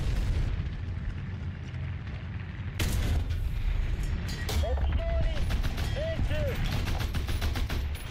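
Gunfire and explosions strike the player's tank in War Thunder during a night battle: a sharp heavy impact, then a stretch of repeated cracks and booms over rumbling engine noise, with someone speaking in between.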